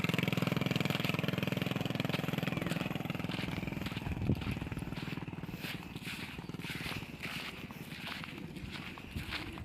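A motorcycle engine idles with a steady rhythmic putter, close by, its level easing slightly partway through.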